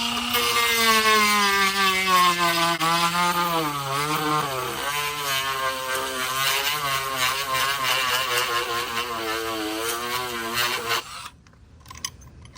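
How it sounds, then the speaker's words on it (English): A motorized sanding tool grinds the edge of a Razor E200/E300 scooter rear suspension part for clearance. It makes a loud, continuous whine whose pitch drifts and dips for about eleven seconds, then stops abruptly. "this is just like sandpaper, and we're sanding the edge"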